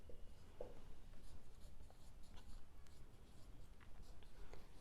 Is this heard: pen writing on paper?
yes